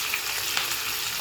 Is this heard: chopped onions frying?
yes